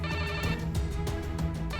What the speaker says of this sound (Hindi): विजया जी मुझे क्यों फोन कर रही हैं?